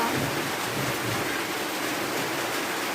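Steady rain falling in a rural Philippine province, a constant, even hiss of dense drops with no pauses, heard alone without voices.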